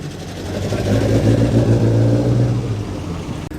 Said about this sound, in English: Chevrolet Camaro SS from 1967 coming in now